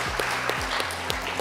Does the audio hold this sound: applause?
yes